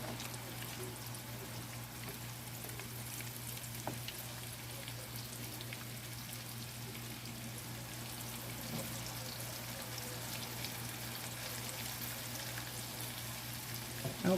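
Salmon balls fry in hot grease in a pan, a steady, quiet crackling sizzle with a faint hum underneath and no talking.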